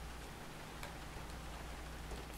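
Heavy rain pours steadily in Grand Theft Auto IV, a dense, even hiss with faint ticks of droplets, quiet and continuous with no voices.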